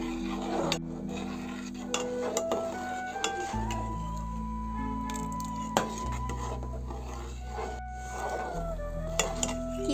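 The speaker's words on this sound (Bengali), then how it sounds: "গুড়টা দেওয়ার পরও বেশ ভালো করে নাড়তে হবে যাতে তলাতে না লেগে যায়" A spoon scrapes and rubs against a pot while jaggery rice pudding (payesh with winter date-palm jaggery) is stirred, giving repeated close scraping strokes over a steady tonal background hum.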